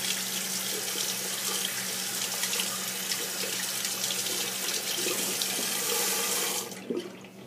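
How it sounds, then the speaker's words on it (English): A bathroom or kitchen tap runs steadily into a sink for several seconds, a loud continuous hissing splash, then is shut off near the end leaving a few faint drips and handling sounds. "First I have to rinse it off again."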